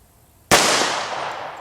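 A single sharp gunshot striking a steel target plate at a shooting range cracks out suddenly and loudly, followed by a long ringing metallic decay that slowly fades.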